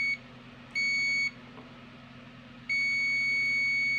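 Two high, steady electronic beeps from a multimeter's continuity buzzer while testing a transformer, one short and one longer, over a quiet hum with no talking.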